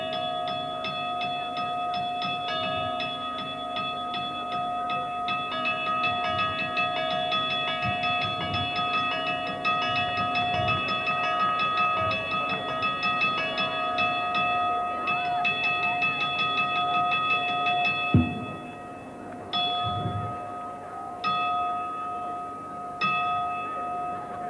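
Church bells of Jaca cathedral ring in the normal daily pattern, with sustained resonant tones layered under repeated strikes. The strikes thin out and separate toward the end, sounding clear and fairly loud with no voices.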